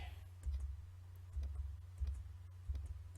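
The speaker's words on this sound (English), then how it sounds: "Sorry if you hear a bunch of clicking." A computer mouse clicks several times, faint sharp ticks spaced irregularly over a steady low hum, with no speech.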